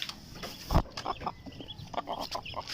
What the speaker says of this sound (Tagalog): ito naman yung ating mga alagang manok